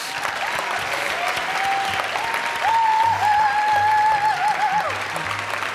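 Steady applause from an audience at a BYU-Idaho apparel design fashion show carries on at a moderate level for several seconds, with a brief tonal sound partway through.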